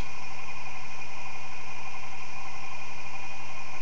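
An experimental three-phase energizer with a bigger coil spins near 700 RPM, giving a steady, loud mechanical hum with constant whining tones and no change in rhythm.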